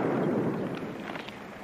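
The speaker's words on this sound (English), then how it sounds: "gunfire. Sounds like it's coming from that direction." A faint, distant rumble of gunfire in an old Western film setting, a low muffled boom trailing off into quieter scattered cracks, heard alone without speech.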